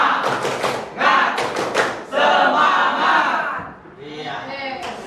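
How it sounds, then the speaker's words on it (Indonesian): A group of Indonesian students does a rhythmic spirit clap, with bursts of sharp clapping and thumping mixed with shouted group chanting, close and energetic, ending in a brief lull of voices. "Yuk, kita semua tepuk semangat dulu."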